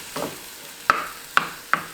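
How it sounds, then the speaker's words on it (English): Gluten-free sourdough ingredients with a splash of almond or soy milk are mixed together: a soft scraping swirl, then three sharp, close taps spaced about half a second apart. "Mix it all together."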